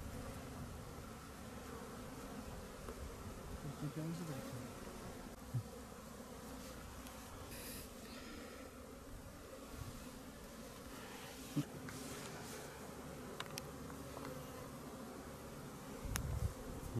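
Caucasian honey bees buzz around a hive in Ardahan, a soft, steady drone of many insects that hums continuously without a break, fairly quiet and with no talking.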